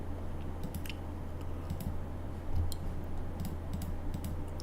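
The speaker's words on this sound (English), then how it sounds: "We can probably start with typing the HTML." Someone typing on a computer keyboard, with soft, irregular key clicks in short bursts, close and fairly quiet over a steady low electrical hum.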